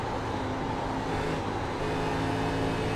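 A race car engine in a sim racing game at Darlington drones steadily and loudly through a corner as the throttle is feathered, a dense, constant engine roar with no speech.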